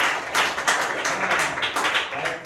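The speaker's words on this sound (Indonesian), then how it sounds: "Ya, tepuk tangan supaya benar." Students in an eighth-grade classroom clap together, giving a brief burst of dense, bright applause that holds steady at moderate loudness throughout.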